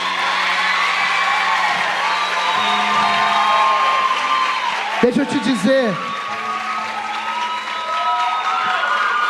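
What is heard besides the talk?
church congregation applauding louder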